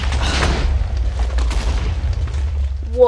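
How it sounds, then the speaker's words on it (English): A building blown up in a video game gives a loud, sustained deep boom with rumbling low end that carries through the whole stretch, with brief sharper crackles on top. "YOU BLEW UP THE WHOLE BUILDING!?!"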